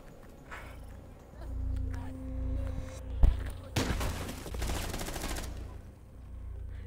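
Rapid automatic gunfire shoots through a wall in Rainbow Six Siege, a sharp single crack followed by a dense burst of rounds over a low background rumble, fairly faint overall.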